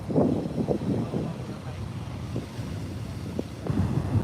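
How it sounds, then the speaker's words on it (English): Gusty wind at a coastal jetty buffets the microphone in a steady low rumble, with surf and faint voices in the background. "It's a little bit windy."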